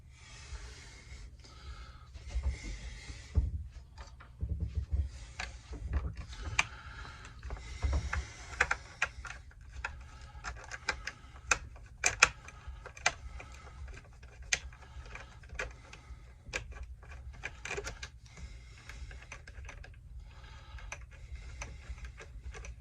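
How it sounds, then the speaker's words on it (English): A gear wrench ratchets screws out of a Homelite Super XL Auto chainsaw, giving rapid clicking and ticking bursts with small metallic knocks, close up, no talking. "I use the gear wrench on the bottom because it's easier. I like to remove the screws first."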